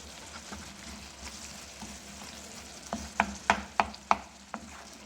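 Chopped onion and tomato for an omelette sizzle softly in a pan, with a run of sharp spoon scrapes and stirring knocks toward the end, fairly close and with no talking.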